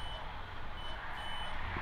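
A ghost-hunting device beeps at Norwich State Hospital, giving a steady, thin electronic tone close by over a noisy, hissy background.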